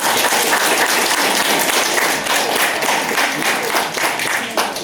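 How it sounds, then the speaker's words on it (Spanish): Wedding guests applaud the newlyweds: dense, steady clapping from a large group fills the whole stretch at close range, loud and continuous with no speech over it. "Palmas para los nuevos esposos."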